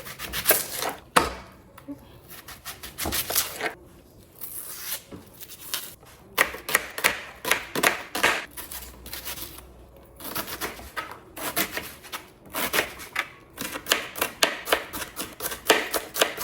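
A knife chops purple onion for tacos on a wooden board in quick, irregular bursts of sharp taps, close and clear, broken by short pauses.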